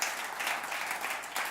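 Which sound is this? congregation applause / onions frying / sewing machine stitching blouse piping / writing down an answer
congregation applause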